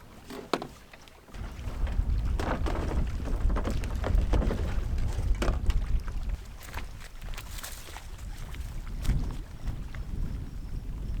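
Canoe paddling past an island campsite on a lake, with steady close water swishing and paddle strokes recurring every couple of seconds over a constant low wind rumble.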